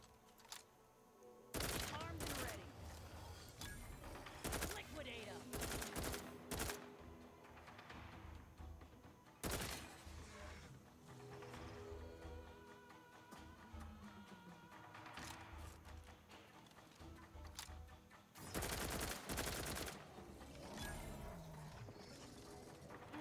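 A self-reloading gun firing in the sci-fi RPG video game The Outer Worlds 2, with several loud bursts of shots spread across the scene, quieter game sounds in between, and some speech at times.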